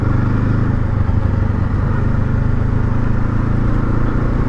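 A Honda CL500 motorcycle ridden off road gives a loud, steady engine drone with a rumbling low throb and constant clatter. It holds at an even level throughout with no pauses or talk.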